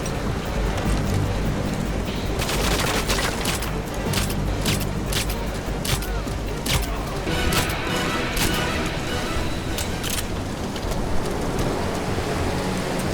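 Suppressed gunfire in the first-person shooter GoldenEye 007: Reloaded, with a series of muffled shots cracking at irregular intervals over a dense, steady bed of game noise.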